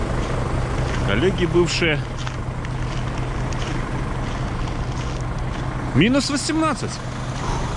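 A vehicle engine idles steadily just after a cold start in heavy frost, around minus 18, with a constant low rumble running throughout while someone talks briefly over it twice.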